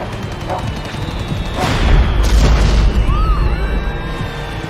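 Cache of fireworks igniting at a market stall, setting off a chain reaction: a heavy rumbling boom swells with crackling bursts and whistling streaks, loud and sustained.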